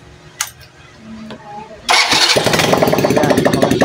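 Quiet clicks and fiddling give way to a small engine, with no exhaust pipe fitted, catching and roaring to life during carburetor tuning, then running loudly and steadily with a rough, rattling idle.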